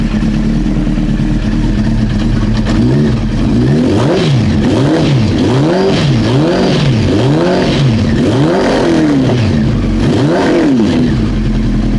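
Honda CBR 900 Fireblade motorcycle engine running with the choke on, loud and close, blipped repeatedly in a rhythmic series of revs that rise and fall over a steady idle.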